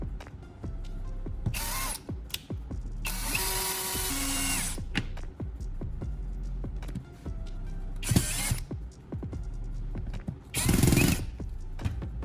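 Power drill driving screws into a wooden surface to fix pull tabs for hanging clothes, heard as repeated short whirring bursts with ratcheting clicks and handling knocks between them, close and fairly loud.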